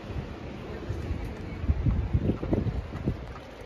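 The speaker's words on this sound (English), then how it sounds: "You guys hear this wind? That's strong wind." Strong wind blows outside on a snowy day, a rough rumbling roar with gusty buffeting against the microphone that rises and falls over a few seconds.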